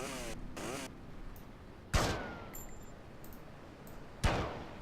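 Several loud, sharp gunshots fired at a car in Grand Theft Auto: Vice City ring out at intervals over a low rumbling background, each followed by a short echoing tail.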